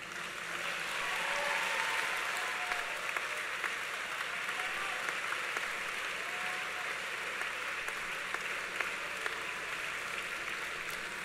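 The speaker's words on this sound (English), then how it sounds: "will the graduates please rise and give a round of applause in appreciation of those that supported you through the educational process" Graduates at a university commencement ceremony give a round of applause, producing steady, sustained clapping from a large crowd that fills the hall without a break.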